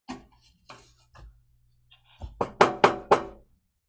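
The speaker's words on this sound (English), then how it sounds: "Let me try the door." Radio drama sound effect of a door being tried: a few soft thuds, then a loud run of four or five rattling knocks and clunks of a handle and door, close and alone.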